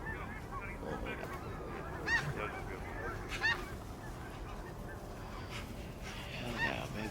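Geese honk repeatedly at a sandhill flyway during a hunt, with scattered calls from a large flock at moderate distance over steady outdoor background noise.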